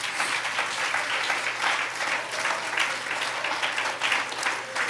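Congregation at a Spanish-language church service claps loudly for the Lord, a dense, continuous wall of applause with no speech.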